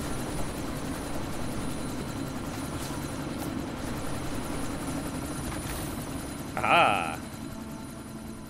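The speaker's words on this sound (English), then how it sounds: "That chopper's about to take off." A helicopter's rotor and engine drone steadily on the ground, about to take off, in the Deus Ex: Mankind Divided video game, with a brief voice exclamation near the end.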